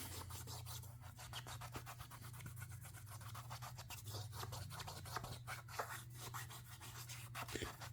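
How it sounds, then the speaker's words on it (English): Steady, quiet rubbing and scrubbing as dried glue is worked off a surface, a continuous gritty friction with rapid back-and-forth strokes over a low hum, no voices. "And then now we start rubbing it."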